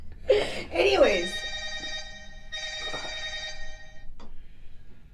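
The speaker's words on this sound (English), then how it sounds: "Hang on, Donna's getting a phone call." A telephone rings with an incoming call, a steady electronic ring tone sounding in two bursts with a gap between, mid-loud and close, while people talk over and around it.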